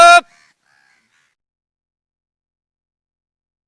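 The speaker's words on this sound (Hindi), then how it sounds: "कौवा आ गए" A single loud crow caw rings out close by at the very start, as crows arrive to be fed in the morning, then everything falls to near silence.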